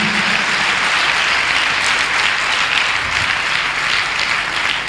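A church congregation at a sermon breaks into loud, sustained applause, a dense wash of clapping that lasts throughout without letting up.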